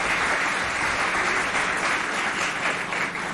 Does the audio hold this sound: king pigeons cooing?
no